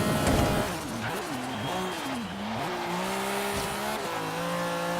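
Lancia Stratos rallycross build braking in Forza Horizon 3, its loud, steady engine drone sliding down in pitch and shifting as the car slows, with a brief rough burst at the start that may be tyre scrub; no talking.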